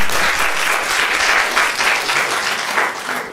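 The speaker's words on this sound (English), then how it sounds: "please give them a big round of applause as well" A room full of people applauds, a dense wash of clapping that stays loud throughout and tapers slightly at the end.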